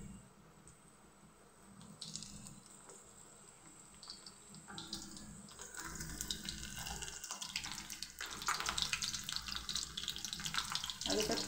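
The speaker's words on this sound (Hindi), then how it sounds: "तेल हमारा गरम हो चुका है। अब इसमें हम हाथों से डालेंगे" Masala peanuts are dropped by hand into hot oil and fry with a rising, steady hiss and bubbling sizzle that grows louder over the second half, close up and without talk.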